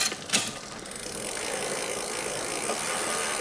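A bicycle rear derailleur, freshly set by its limit screw, clicks through a shift, then a steady freewheeling drivetrain whir and chain rattle carries on close by, with no talking.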